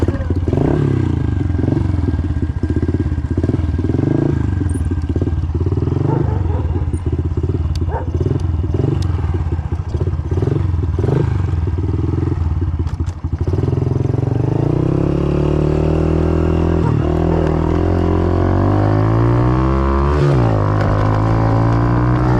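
A 110 motorcycle rides along, its small engine giving a close, steady, buzzing drone that rises and falls with throttle changes, with wind rumble and some rattling over the roughly twenty seconds.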